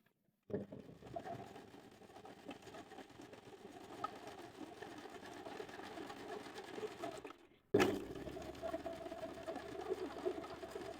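Sewing machine stitching elastic onto swimwear, a close steady whirring run that stops briefly and then starts again slightly louder, no talking.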